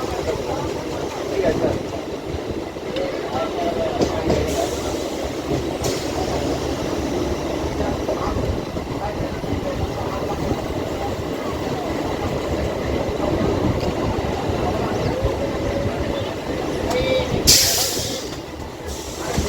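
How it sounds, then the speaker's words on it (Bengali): A local train pulling into Bisharpara Kodaliya station, a continuous rumble and rattle of carriages heard from inside, with someone talking over it throughout. "বন্ধুরা ট্রেন এখন আমাদের চলে এসছে বিশরপাড়া কোদালিয়াতে।"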